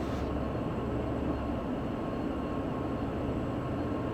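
A freight train rolling over Sherman Hill in Train Sim World 2, a steady unbroken rumble and drone of wheels and engine, moderate and constant with no talk.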